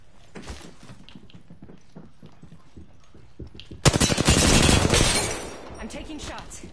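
Gunshots in the video game Apex Legends: scattered lighter shots, then a loud rapid burst of automatic fire that trails off, with a voice talking briefly.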